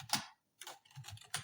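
A computer keyboard clicks in short bursts of keystrokes with brief pauses between them, close and fairly quiet, as code is typed.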